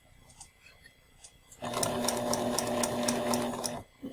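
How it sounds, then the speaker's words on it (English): A sewing machine stitches steadily for about two seconds, its needle thumping in a fast, even rhythm, then stops so the fabric can be pivoted at a corner. Before it starts there is a faint background hum, and the motor sound is close and clear. "Sew a little bit more, needle in, lift your presser foot and pivot."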